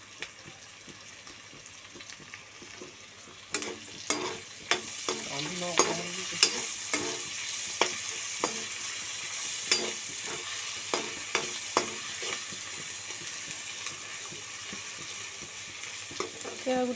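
Ginger, garlic and green chillies frying in a pan, a quiet start giving way to a steady sizzle after a few seconds, punctuated by repeated stirring scrapes and clatters of a spoon against the pan.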